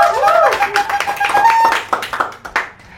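Studio audience applause at the end of a comedy show episode: a short burst of scattered hand clapping, with a voice and tonal sounds over the start, then thinning out.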